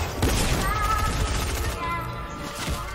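Gunfire in the Fortnite video game comes as a dense, loud burst of rapid shots and crashes with mechanical clatter, mixed with game noise.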